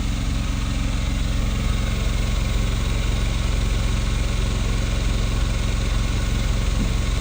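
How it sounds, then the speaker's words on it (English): A 2800 watt Onan quiet generator runs steadily, a continuous even engine hum with a low drone that stays loud and constant throughout, with no voices. "This is the new 2800 watt quiet Onan generator."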